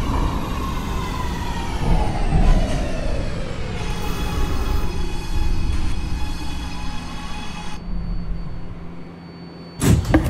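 An R211A subway car runs on the A Express line in the OpenBVE train simulator game. A loud, steady rumble carries a slowly falling motor whine, with a sudden burst of noise just before the end.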